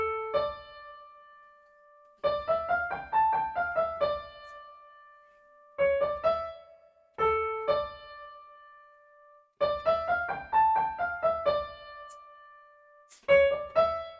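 Keyboard playing the intro of the Ganesh Aarti "Ek Dantay Vakra-tundaya", short phrases of clear melodic notes separated by pauses, close and moderately loud with no voices.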